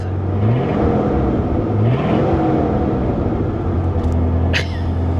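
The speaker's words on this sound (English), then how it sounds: "She's definitely idled up a little too fast for my liking." A 1983 Mercury Cougar engine idles a little fast, a loud, close, steady rumble with slight rises in pitch. A brief high click sounds near the end.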